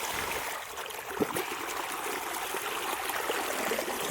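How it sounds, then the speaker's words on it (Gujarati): Irrigation water rushes from opened valves into a pearl millet field, a steady, broad hiss of flowing water that runs without pause and without voices. "હાલો આપણે વાલ ખોલી નાખીએ અને પાણી શરૂ કરી દેવી"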